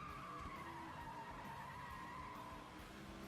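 A car engine in the racing video game FlatOut Ultimate Carnage holds a steady, slightly falling tonal whine with a gritty rumble underneath, loud and continuous with no talk.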